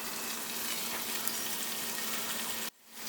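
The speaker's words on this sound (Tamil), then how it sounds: "ஒரு நிமிஷம் வந்து இந்த புதினா வந்து எண்ணெயிலே வதங்கட்டும்" Mint leaves fry in hot oil in a cooker for Chennai-style mutton biryani, giving a steady, close, crackling sizzle that suddenly drops away near the end.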